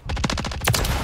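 An MTZ 556 rifle fires a fast automatic burst in the video game Modern Warfare 3, with about a dozen sharp, close shots in under a second and a louder crack near the end.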